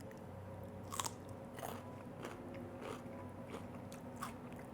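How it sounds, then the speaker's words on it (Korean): Someone eating gochujang made with hwanggeum koji mold, a few soft crunchy bites and chewing sounds spaced about a second apart, close but quiet over low background hum. "이번엔 이 황급균으로 만든 고추장 먹어보겠습니다"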